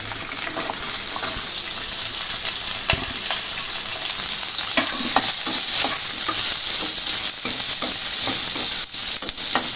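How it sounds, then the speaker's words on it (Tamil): Onions fried in a pan for karakarunai (elephant foot yam) chutney, a loud, continuous sizzle with bursts of crackle and occasional stirring scrapes, steady throughout with no talking. "இப்போ அடுத்து வெங்காயத்தை வதக்கிடலாம்."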